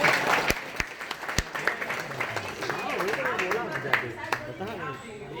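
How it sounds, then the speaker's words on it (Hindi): Loud, dense applause from a crowd fills the clip, with sharp individual claps popping out and voices mixed in. "एक बार ये बच्ची के लिए जोरदार ताली होनी चाहिए"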